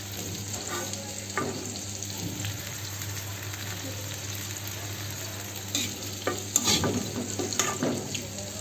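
Rohu fish and taro (kachu mukhi) curry cooking in a wok, a steady close frying sizzle with occasional stirring clatters and scrapes, no talk.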